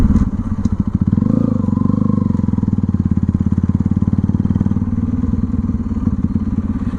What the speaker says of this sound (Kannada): ಆ ಪಾಪ್ಸ್ ಹೆಂಗ್ ಬರ್ತಾ ಇದೆ ಅಂದ್ರೆ, ಇಲ್ಲೊಂದು ಬ್ಯಾರಿಗೇಟ್ ಹಾಕಿದಾರಲ್ಲ, ಅದೇ ಎಕೋ ಹೊಡಿತಾ ಇದೆ ಆ ಪಾಪ್ಸ್.